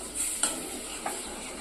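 Eggs for egg bhurji being stirred in a hot pan, a soft steady sizzle broken by a couple of sharp scraping strokes of a spatula, close and fairly quiet.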